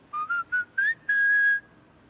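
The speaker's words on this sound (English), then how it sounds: "13th logo sound, McDonald's." McDonald's logo jingle, five short whistled melodic notes, the last one held longer and fading out, clear and alone.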